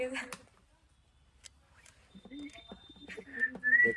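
A person whistles during a kids' tic-tac-toe challenge. Brief tonal whistles appear, clearest near the end, amid voices and light background noise.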